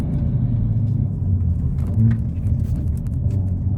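Low, steady rumble from the 2-litre turbo engine of a Hyundai i30N Fastback running in N Custom mode with active exhaust, a continuous close drone with a slight swell near the middle, no voices.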